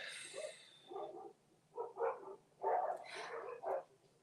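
Dogs bark somewhere off in the background, a few scattered bursts and short clusters, fairly faint and alone with no talking.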